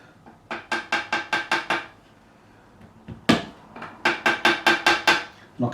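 On a Korean-made Fender Light Ash Telecaster being re-fretted, a fretting hammer taps a fret into the neck in two quick runs of light, rhythmic knocks separated by a short pause.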